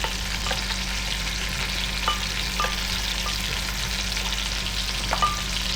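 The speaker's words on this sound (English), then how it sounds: "You're going to fry these probably for about 5-6 minutes until the mushrooms sort of turn a light golden colour." Mushrooms fry in a pot for chicken fricassee, a dense, even sizzle with occasional light clicks of stirring, steady and close over a low constant hum.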